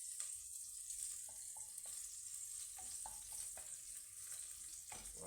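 Rice browning in a pot, Haitian style, gives a steady close sizzle with soft scattered stirring scrapes and crackles throughout, and no one speaks.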